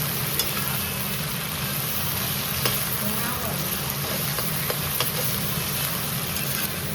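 Steady, dense sizzle of onions frying in a pan for a duck dish, continuous and close, with faint clicks and a low background hum throughout.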